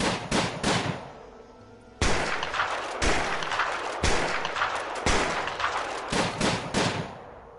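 Repeated bursts of gunfire in the prison management game Prison Architect, loud and close, coming in rapid clusters of shots separated by brief pauses.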